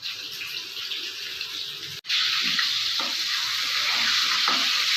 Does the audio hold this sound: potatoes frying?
yes